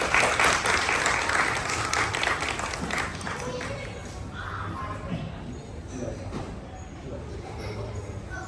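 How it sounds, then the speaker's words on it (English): An audience applauds loudly, the clapping strongest at first and then settling into a steadier, softer patter, with some voices mixed in. "Please give Mirai a big applause"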